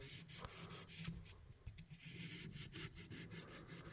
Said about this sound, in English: I think this is 600 grit sandpaper. You can kind of do this and do a little sanding there.